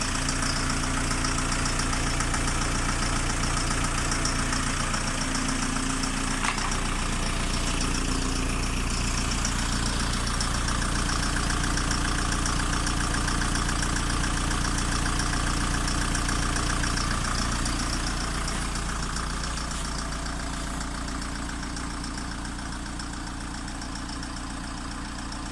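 A Volkswagen T25 van engine idles steadily after warming up, with a close, even, low rumble and a slight knocking texture that runs on alone and fades a little toward the end.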